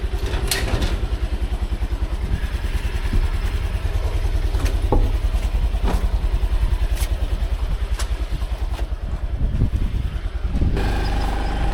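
A motorbike engine starts and runs, then carries on through a morning ride near Rajkot as a loud, close, continuous putter with rhythmic engine pulses and rattling clatter. No talking is heard.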